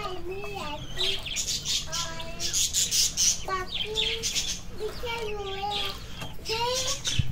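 Several chickens in a coop cluck and squawk in quick, overlapping bursts, close by, over a low background hum.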